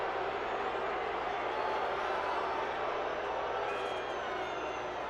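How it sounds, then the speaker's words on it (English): Dense, continuous roar of a football stadium crowd at a USL Championship match in Louisville, KY, jeering and shouting at the referee; steady and broad with no single voice standing out, some chants rising faintly near the end. "A crowd letting their feelings known to the referee."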